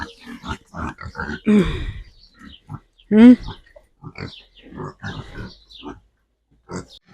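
Black pigs on a village farm grunting in short rough bursts close by, mixed in with a person talking throughout.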